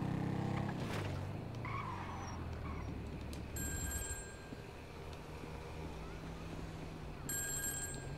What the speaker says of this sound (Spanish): Otra vez el teléfono público.